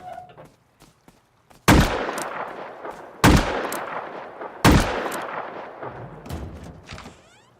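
Three loud, sharp gunshots in a video game, each followed by a decaying reverberant tail, spaced roughly a second and a half apart after a few faint clicks, with no talking.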